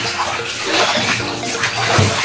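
Cold water splashes and sloshes in a bathtub, a close, continuous watery churning with brief surges.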